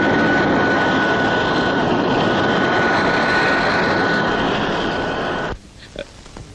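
An airplane lands in a scene from a Telugu feature film. Its engine makes a loud, steady roar with a faint whine running through it, then cuts off abruptly near the end, leaving near-silence.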